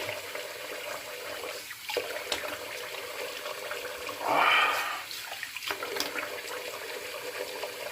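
Tap water runs steadily while rinsing off after a shave, a constant hiss with a brief louder splash midway, close by and without talking.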